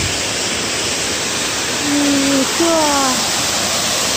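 A waterfall in the 100 Mile Wilderness on the Appalachian Trail roars as a steady, loud broadband rush, while a person briefly speaks over it.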